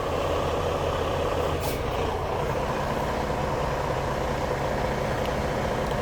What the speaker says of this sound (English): They had me idling the truck for like, I guess 15 minutes or so